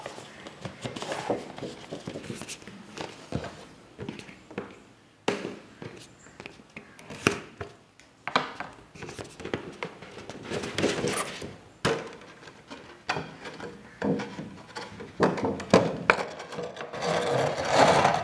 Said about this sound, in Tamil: இப்போ பாக்ஸை கட் பண்ணலாம்